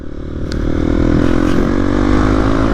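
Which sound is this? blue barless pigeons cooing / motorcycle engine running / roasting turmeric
motorcycle engine running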